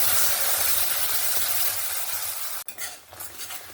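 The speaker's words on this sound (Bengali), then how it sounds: "ফোড়নটাকে সুন্দরভাবে ভেজে নেব" Whole spices such as black peppercorns temper in hot oil in a pan, a loud, continuous hiss and sizzle that drops off sharply near the end, then returns softer with clinking stirs.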